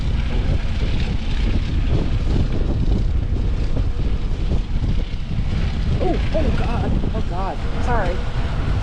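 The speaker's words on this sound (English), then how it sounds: "It's a lot more breezy than it was first thing this morning." Steady, loud wind buffets the microphone on a boat travelling along a canal, a continuous rushing roar with brief voices briefly audible near the end.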